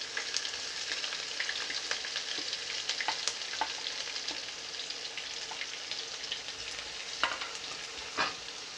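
Chopped green chillies hit hot oil in a pan while cooking mustard greens and potato sabzi, giving a steady, close sizzle and crackle with a few sharper pops and no talking.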